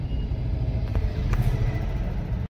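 A car engine idles with a steady, close low rumble and faint knocks, then cuts off abruptly near the end.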